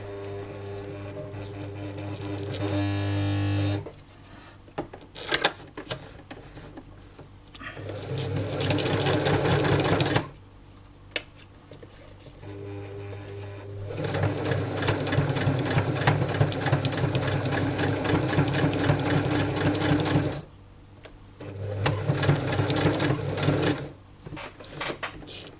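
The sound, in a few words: sewing machine stitching paper ruffles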